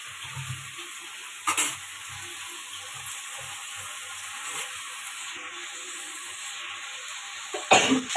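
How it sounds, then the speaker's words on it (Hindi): Masala frying in a pan after cumin tempering for a home-cooked sabzi, a steady high hiss of sizzling oil running throughout, broken by a few scraping stirs and brief louder bursts. "और मसाला भूनेंगे।"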